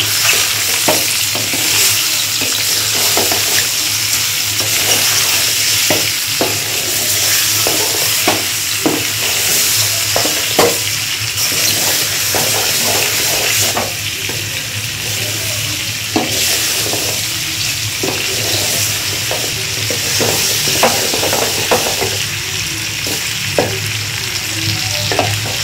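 Mango pieces for a jaggery-and-sugar mango pickle are stirred in a hot pan, giving a loud, steady sizzle with repeated scraping and clacking of the spoon throughout, and no voices.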